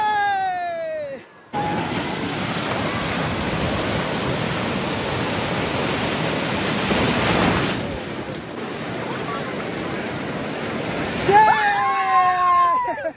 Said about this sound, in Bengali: একটা বড় ঢেউ আসছে, দেখি কাটাতে পারি কিনা।